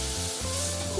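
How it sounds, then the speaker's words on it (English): Flour whisked into a hot pan for Welsh rarebit, a steady close sizzle with a brief scrape of the whisk partway through. "we'll tip the flour in and whisk it up"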